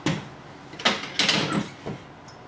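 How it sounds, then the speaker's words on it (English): UltraDog anti-intrusion device being fitted onto a door: several sharp clacks and sliding scrapes of metal and plastic, four or five distinct knocks spaced across a couple of seconds, close and moderately loud. "This is putting the UltraDog on."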